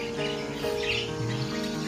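Newborn mynah chicks about five days old squawking in a nest brought in from a demolished village building, continuous overlapping shrill begging calls close by with no speech.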